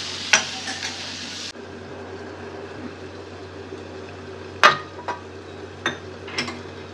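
Capsicum (bell pepper) vegetable being stir-fried in a pan, a soft steady sizzle under a handful of sharp scraping clinks from the spatula, close and with no talk.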